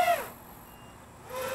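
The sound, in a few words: drone low voltage warning beep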